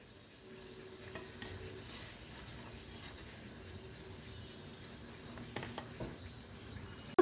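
Rice-flour pitha for dudh gokul fry in hot oil, a low steady sizzle as the pieces are lifted out one by one, with occasional clinks and stirring of the utensil and no talking.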